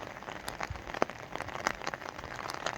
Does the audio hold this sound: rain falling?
yes